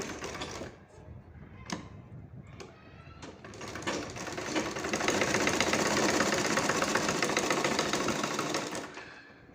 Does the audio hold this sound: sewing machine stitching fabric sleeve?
yes